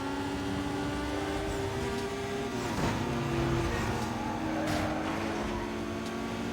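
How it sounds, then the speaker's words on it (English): Two car engines run side by side in the video game Need for Speed Most Wanted, a steady droning hum with layered tones that stays fairly even, swelling slightly midway. "Is something funny about two of these cars next to each other making that noise?"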